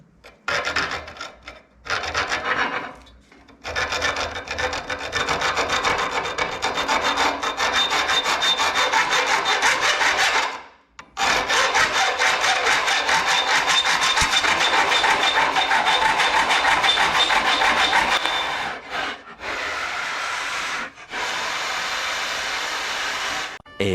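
MR LIGHT TOTAL hacksaw with a 12-inch blade cutting a metal angle piece, steady loud rasping strokes running almost continuously, with a few brief pauses between bursts and no voices.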